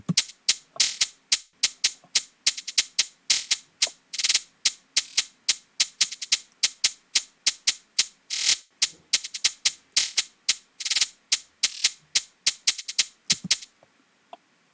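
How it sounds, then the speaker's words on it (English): A crisp counter snare drum plays a busy solo pattern for a drill beat, with quick rolls and shifting accents and velocity changes, steady and close, with no voices. "the next part is a counter snare"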